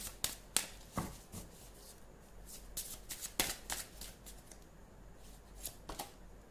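A tarot card deck being shuffled by hand, with crisp riffling bursts and light slaps repeating irregularly, close and quiet, with no talking.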